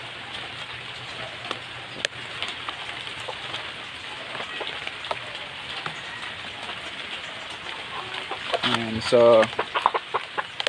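Chickens cluck outdoors in the rain, where a short burst of clucking rises near the end over a steady patter of rainfall, with a brief spoken word.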